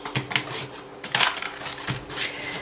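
Tarot cards being shuffled by hand: several quick, papery riffling and slapping bursts at an irregular rhythm, close and moderately loud, with no speech.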